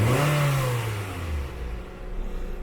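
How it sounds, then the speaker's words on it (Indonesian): A used car's engine is revved hard while being checked before purchase, the note rising loudly then sliding down and settling back toward idle, with no talking. "Sambil digas, sambil lihat knalpotnya juga."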